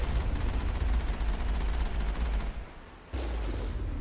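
Heavy cannon fire in the video game Mass Effect, a sustained loud rumbling barrage of blasts that cuts off briefly near the end and then resumes, with no talking.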